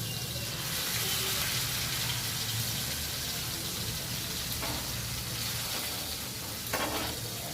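Chicken leg pieces fry in hot oil, a steady dense sizzle and crackle running close and loud throughout, with a few brief clatters near the end.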